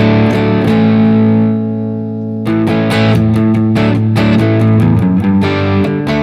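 An electric guitar fitted with a swapped bridge pickup plays through a Marshall amp, loud and overdriven, with sustained chords that fade briefly before a run of sharp, rhythmic strummed hits, no talking over it.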